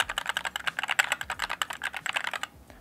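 Rapid, steady typing on a budget hot-swap mechanical keyboard, with dense close-up clacky keystrokes in an even rhythm that stop abruptly near the end.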